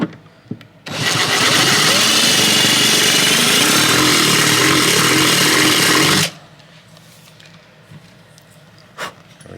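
A power drill whines loudly and steadily for several seconds as it bores into the wooden body of a 1965 Gibson Country Western guitar, then cuts off abruptly, leaving quiet room noise.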